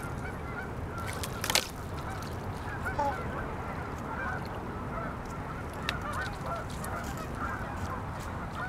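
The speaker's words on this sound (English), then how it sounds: "Some Canadian geese over there making a lot of noise." Canada geese honk repeatedly at a moderate distance outdoors, a steady run of calls over constant background noise.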